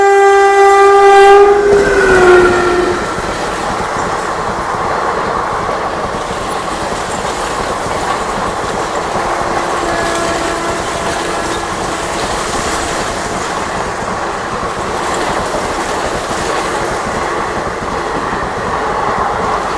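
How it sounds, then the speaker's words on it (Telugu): The Krishna Express sounds a long horn, then thunders through Ghatkesar railway station without stopping, a loud, close, continuous rumble of wheels and carriages that lasts throughout. "కృష్ణ అయితే గట్కేసర్ని స్కిప్ చేసి కూడా అయితే వెళ్ళింది."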